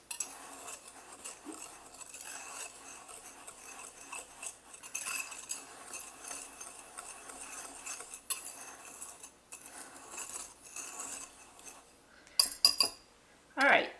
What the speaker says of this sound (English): now we're just going to stir that together